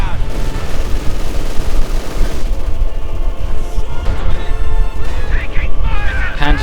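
Machine gun bursts and explosions crackle and boom in a Company of Heroes 2 one-on-one match, dense and loud, heard under continuous fast commentary.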